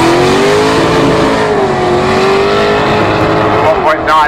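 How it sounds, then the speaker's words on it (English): A 2-litre Corsa drag racing car accelerates hard down the strip, its loud, strained engine whine sweeping upward through the gears as a commentator talks over it. "a little 2 litre Corsa in the right hand lane"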